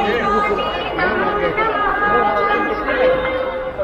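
A busy crowd at the Anganewadi Bharadi temple fair keeps up a loud, unbroken murmur of overlapping conversations, with a few nearer voices rising briefly out of the babble.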